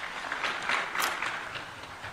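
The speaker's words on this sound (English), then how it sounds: "Will we clap for them?" An audience at a county government nuclear power conference in Siaya breaks into brief applause for the executive members, a moderate patter of clapping that swells and eases over about two seconds.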